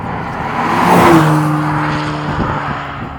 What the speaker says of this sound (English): the Grecale sounds better and louder when it passes by you